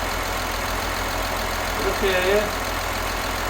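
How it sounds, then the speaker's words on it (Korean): A Kia Mohave engine idles after an upgrade to a smart Bosch 600-watt BLDC electric cooling fan, giving a steady, even low drone throughout, with a brief spoken word over it midway. "엔진 소리만 좀 들리고 있어요."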